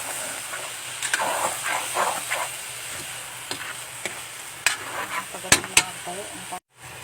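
Ground pork sizzling in a pan with ham, a continuous hissing fry broken by sharp clatters of a utensil against the pan.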